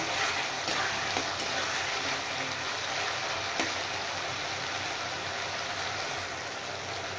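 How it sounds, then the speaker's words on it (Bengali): Spice masala frying with chopped tomatoes for an egg and paneer curry, a steady dense sizzle and hiss filling the whole stretch with faint stirring scrapes, close and continuous without any voices. "এবার এই মশলাটা আমি একটু ভালো করে ভেজে নেব। এবার দিয়ে দিচ্ছি কুচিয়ে রাখা টমেটো।"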